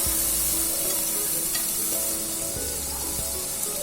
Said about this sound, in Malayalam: തക്കാളി ഇതിട്ട് നന്നായിട്ട് ചെറുതായിട്ടൊന്ന് വാട്ടിയെടുക്കാം.